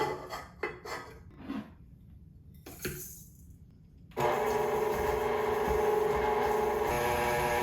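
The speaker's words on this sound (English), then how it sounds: "we're gonna cream the butter and brown sugar" Butter and brown sugar creaming for pumpkin cookies: a few soft clinks and scrapes at first, then from about four seconds a steady, loud whirring mixer drone runs continuously to the end.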